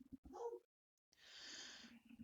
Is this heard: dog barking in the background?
yes